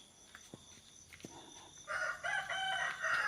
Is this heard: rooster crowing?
yes